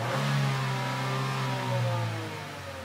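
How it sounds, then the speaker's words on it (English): A car engine revs hard on a quick snap of the throttle, a loud steady mid-pitched roar that swells and then eases slightly toward the end, with no voices. "Now if we give it a snap throttle, now we can watch our CO levels climb."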